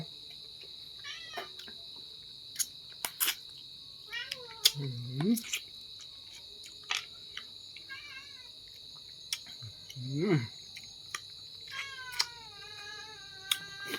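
A cat meows twice with rising, drawn-out cries several seconds apart, set against a constant high insect whine and scattered sharp clicks and chirps.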